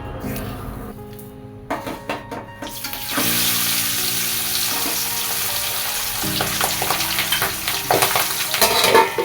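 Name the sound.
fish frying and spattering in oil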